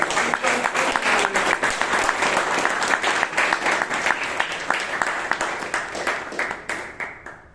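Audience applause at a Bangalore Toastmasters club meeting, a dense wash of many hands clapping steadily and fairly loud for several seconds before thinning out and fading toward the end.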